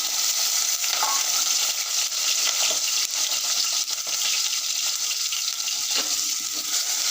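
Potatoes fry in hot oil on a high gas flame for a potato shaak. A steady, loud sizzle hisses throughout, broken by a few clinks and scrapes of stirring, with no voices.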